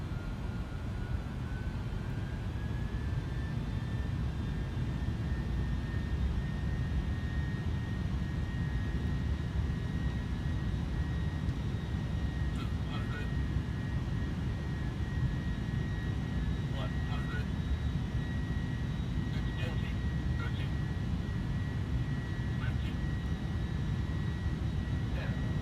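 Steady, continuous roar of Airbus A310 jet engines in Microsoft Flight Simulator 2020, a constant drone with a rising whine and occasional faint clicks.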